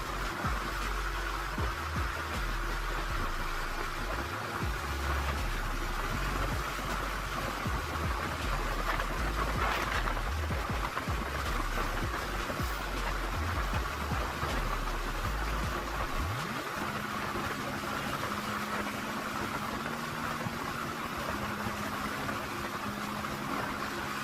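A 2022 Honda 70cc motorcycle engine drones steadily at about 80 km/h with broad wind rush, continuous and close, its pitch shifting slightly partway through.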